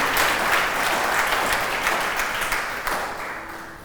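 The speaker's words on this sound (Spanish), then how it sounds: "Yo quiero que usted dé un fuerte aplauso a todas las personas que hicieron este paso de fe." A church congregation applauds during a Spanish-language service: dense, steady clapping from a large crowd that gradually fades over a few seconds.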